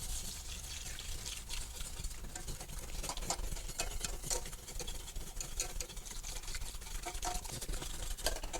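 Cold milk poured off the heat into a roux and stirred for a béchamel sauce, a steady close liquid swishing and trickling with faint patter throughout, no talking.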